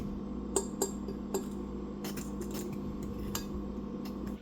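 Seasonings being stirred into flour in a bowl, with a few sharp clinks of a utensil against the bowl early on, then a steady scraping, rustling stir.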